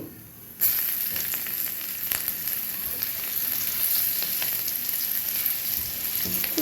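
Garlic dropped into hot oil in a pan, cooking bursts into a bright, steady sizzle with small pops that keeps going without pause.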